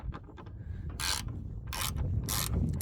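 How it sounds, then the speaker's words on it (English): Socket wrench working a bumper bolt on a Hyundai Accent during a headlight replacement, with a few short bursts of clicking ratchet noise among lighter mechanical knocks and handling sounds, close by and with no speech. "you're going to just stick your socket in there, okay, and get it in there real good"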